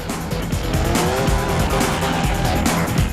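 Racing cars in Project Gotham Racing 3 on the Xbox 360, loud continuous engine roar with tire squeal and skidding throughout, no voices over the steady game audio.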